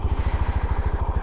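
CFMOTO 300SR motorcycle engine idling close by, a fast, even low-pitched thumping pulse with a steady rhythm and no speech.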